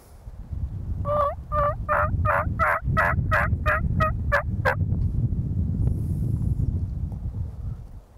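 A run of about a dozen quick wild turkey hen calls, fairly close and loud, then quiet outdoor ambience.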